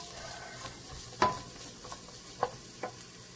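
Onions sautéing in a pan for Filipino catfish nilarang: a soft, steady sizzle with a few sharp clinks and scrapes from stirring, quiet and close, no talk.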